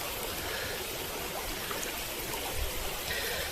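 Water rushes steadily through an old sluice and over a battered stone weir in a river valley, a constant broadband roar of flowing water with no voices.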